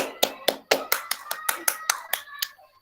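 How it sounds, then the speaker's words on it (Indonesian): Short round of hand clapping for a student's presentation in an online class, about a dozen sharp claps in a loose rhythm, near and fading out. "tepuk tangan dulu untuk Zaki"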